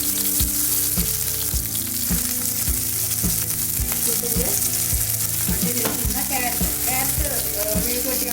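Mustard seeds and curry leaves crackle and sizzle loudly in hot oil, with a dense, continuous frying hiss and rhythmic pops and taps from stirring in the pan.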